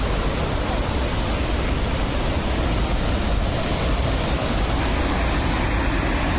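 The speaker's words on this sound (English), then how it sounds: "You can get some waterfall," Steady broadband rush of a waterfall, loud and continuous, heard alone with no talk over it.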